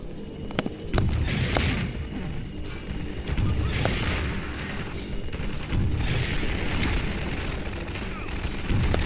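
Gunfire in the shooter game Half-Life 2, several sharp shots and booming impacts scattered over a dense, noisy game mix of rumbling combat effects.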